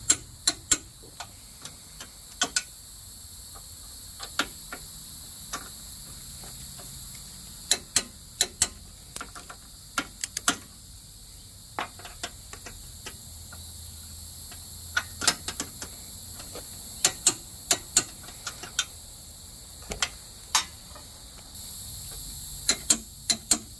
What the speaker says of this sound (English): I'm going to start going through and torquing these to 35 foot-pounds. It's utilizing a swivel to make it a little easier